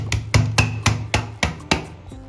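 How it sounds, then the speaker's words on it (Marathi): A plate is tapped repeatedly to unmould a tray of set maida barfi, giving seven sharp, close knocks in an even quick rhythm. "आता आपण हे बर्फीचं मिश्रण डिमोल्ड करून घेऊया त्यासाठी अशा प्रकारची प्लेट घ्यायची आणि अशा प्रकारे टॅप करायचं"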